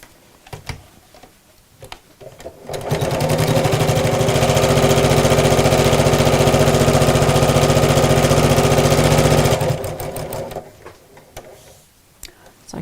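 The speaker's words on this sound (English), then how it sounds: "I'm going to sew around the edge of the pocket" A sewing machine stitches around the edge of a pocket on a craft bag in one continuous run of about six seconds, loud and close, with quieter handling sounds and talk before and after.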